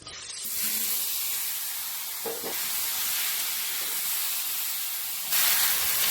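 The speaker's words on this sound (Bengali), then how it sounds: "একটু মৌরি ফোড়ন দেব" Fennel seeds temper in hot mustard oil, a sudden steady hiss and sizzle, close and moderately loud, with a brief stir and clink partway through.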